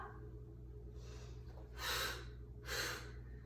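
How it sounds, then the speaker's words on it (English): Two sharp, forceful nasal exhales during yoga breathing in a hot yoga class, spaced about a second apart over a steady low background hum, close and distinct. "Sharp double exhale."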